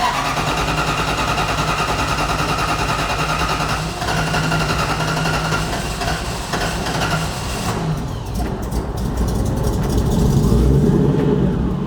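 A supercharged V8 drift truck, hotwired with its fuel pump on, cranks and then fires up into a loud, close rumbling idle with revs rising near the end.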